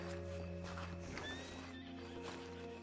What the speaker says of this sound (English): That's a healthy horse right there.